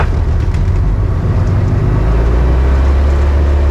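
A Tecnam P2002JF light aircraft engine during the takeoff roll, a loud, steady low droning roar with a rising hum, close and continuous.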